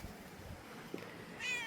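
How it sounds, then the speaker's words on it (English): A pet cat meows once, a short, fairly close call standing clear of quiet room tone with no one talking. "But she is a pretty good cat."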